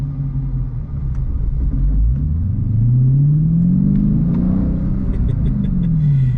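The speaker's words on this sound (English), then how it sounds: "I just love the way that V8 sounds." A deep, rumbling V8 engine in a 2022 Dodge Challenger Scat Pack Widebody with manual transmission revs up and accelerates, its pitch climbing steadily then easing, loud and close with no talking.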